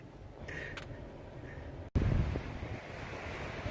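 Beach at Corpus Christi: wind buffets the microphone over a steady wash of surf, loud and close, with a brief dropout midway before the gusting resumes.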